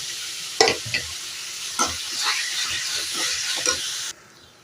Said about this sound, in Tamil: இப்போ நம்ம முள்ளங்கி வேக வச்சுருந்தோம்ல அதை இதில் போட்டுக்கலாம் வேக வச்ச பாசி பருப்பும் நல்லா போட்டுக்கலாம்